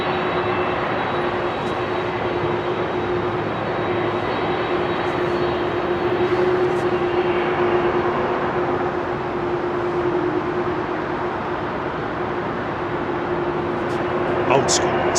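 An airliner with CF6 engines departs Heathrow with a steady, broad engine roar and a constant tonal whine, holding loud and even throughout, while people talk over it.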